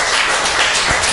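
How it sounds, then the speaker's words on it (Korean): Church congregation breaking into applause during a Korean Sunday worship service: a brief, dense burst of many hands clapping together, loud and filling the room. "하나님께 영광의 박수 올립시다"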